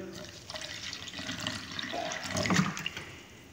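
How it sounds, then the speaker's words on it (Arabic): About 50 to 100 ml of water is poured into a calcium carbonate mixture, making a soft splashing trickle that swells and then fades, close and fairly quiet, with no speech. "نضيف القليل من الماء، حوالي 50 إلى 100 مللتر من الماء"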